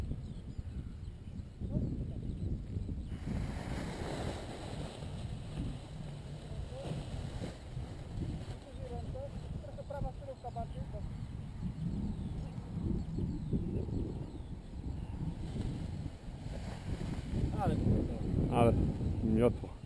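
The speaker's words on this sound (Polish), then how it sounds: "Ej, słaby wiatr." Gusting wind buffets the microphone in low rumbling waves at a paragliding training site in Strzelce Dolne, Poland, with voices talking faintly now and then underneath.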